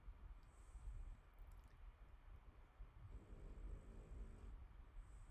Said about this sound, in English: His snore is so cute.